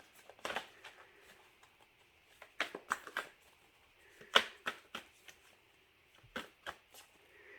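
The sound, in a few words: shuffling tarot cards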